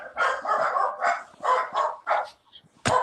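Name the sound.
dogs barking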